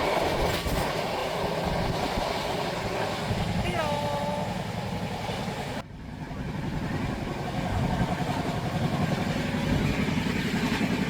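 A passenger train heard from inside a carriage on the way to Vaishno Devi keeps up a steady, loud rumble and rattle of wheels on rails throughout, with a brief squeal midway and voices talking underneath.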